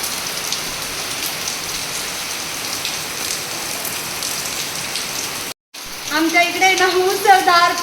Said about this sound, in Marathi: पाऊस बघा किती पाऊस आहे खूप पाऊस आहे